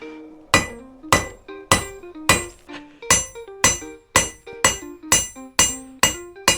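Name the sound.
hammer forging a guard on an anvil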